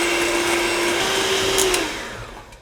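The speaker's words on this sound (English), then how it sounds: "We need the mixer." An electric mixer whipping pasteurized eggs and sugar into a cream for pistachio tiramisu gives a steady, loud motorized whir that holds even and then tapers off near the end, with no talking.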